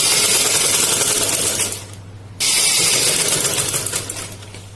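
An electric sewing machine runs close up, stitching salwar fabric, a steady whirring drone that pauses briefly midway and then resumes just as loud.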